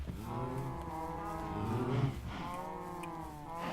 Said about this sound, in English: There's some cows. Maybe they're my cows.